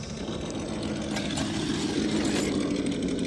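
An RC crawler truck built from a Gatekeeper kit runs its motor, a steady idling hum that swells slightly toward the end, with no one speaking.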